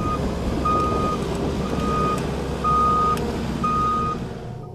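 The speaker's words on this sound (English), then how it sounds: "Loaders should be equipped with backup alarms, and operators should look behind while driving in reverse." Backup alarm on a skid steer loader beeping steadily in evenly spaced tones over a loud, rumbling engine, close and continuous without speech.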